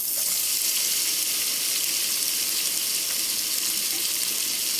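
Chopped onion sizzles steadily in a pan over medium heat for spicy shrimp scampi, a loud, even frying hiss that fills the whole stretch with no voices.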